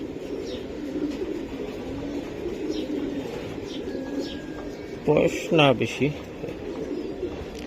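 Racer pigeons coo in a low continuous murmur of overlapping calls near at hand, while someone speaks briefly over them toward the end.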